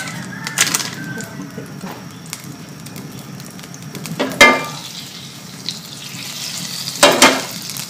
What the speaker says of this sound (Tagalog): First, we are going to brown our chicken breast.